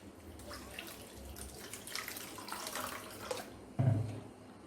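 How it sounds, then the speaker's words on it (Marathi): A cup of flattened rice (poha) rinsed under running water, a soft continuous splashing and trickling close by that swells briefly near the end, with no voices. "इथे 1 कप पोहे घेतलेले आहे मी। याला आपल्याला स्वच्छ धुवून घ्यायचे आहे।"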